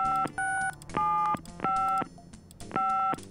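Touch-tone dialing in the occult adventure game Gabriel Knight: a series of about six crisp, loud two-tone beeps in quick, slightly uneven succession, with short gaps between and nothing else heard.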